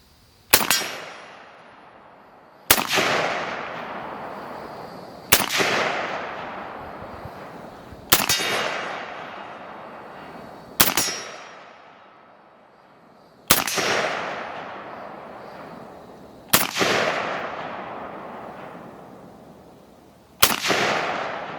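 A Springfield M1A rifle fires eight loud, sharp shots at a target outdoors, evenly spaced about two to three seconds apart, each crack followed by a long fading echo.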